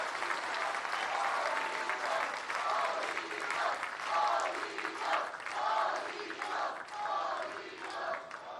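A crowd applauds Social Security workers and their union at the opening of a family medicine clinic in Ecatepec, with steady clapping and swells of cheering and shouting that rise and fall throughout.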